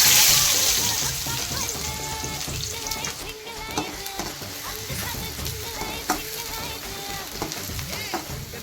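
Chopped onion frying in hot oil for chicken curry, a continuous crackling sizzle that starts loudest and settles into a steady close fry with occasional stirring clinks, no talking.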